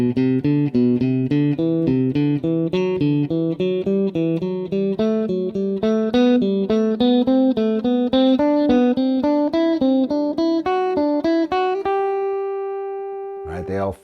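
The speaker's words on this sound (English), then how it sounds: "there's all my 4-note sequences deployed ascending through the scale" An instrument plays rapid, evenly spaced notes in four-note scale sequences that climb steadily through the scale, each note the same length, ending on a sustained tone, close and clear with no talking.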